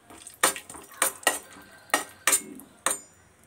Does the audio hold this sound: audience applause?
no